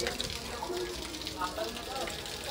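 Water gushes steadily from a broken pipe at a railway station junction, a continuous hissing rush under nearby voices talking.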